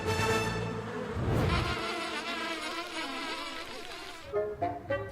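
Honeybees buzz loudly and continuously close by, the droning hum wavering in pitch as they move around.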